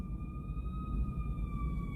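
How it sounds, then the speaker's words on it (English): A steady, sustained emergency-vehicle siren on the Las Vegas Strip holds a level wail through the whole stretch over a low traffic rumble, moderately distant and with no talking. "He's got the light, the siren"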